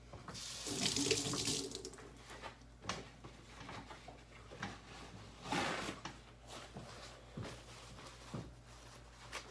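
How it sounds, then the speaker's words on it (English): A potato washed under a running kitchen tap, water streaming steadily into the sink with splashing surges as it is rubbed and turned, close and fairly quiet, no voices. "So right now I'm going to wash my potato first."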